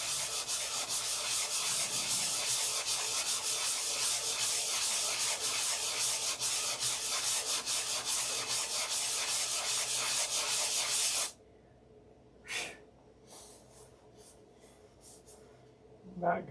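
Wood being sanded by hand while moving a model's centre of gravity back, a steady close rasping scrape for about eleven seconds, then near silence with a few faint brief rubs and small knocks.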